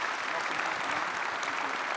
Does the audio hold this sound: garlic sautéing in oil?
no